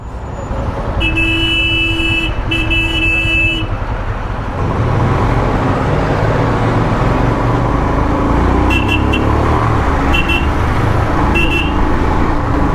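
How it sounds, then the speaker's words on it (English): Lorries rumble through a small town along a busy narrow road, with a steady loud engine drone, passing traffic noise and a few short horn toots layered over it. "A couple of lorries coming through."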